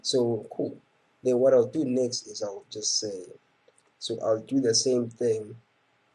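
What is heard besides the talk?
No everyday noises stand out.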